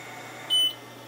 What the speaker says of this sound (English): you can hit start and the machine's going to beep